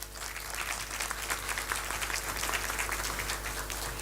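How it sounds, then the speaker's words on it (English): An audience at a debate event claps continuously, a dense steady applause heard from within the hall at moderate level. "May we have another round of applause for Dr. Shorkar"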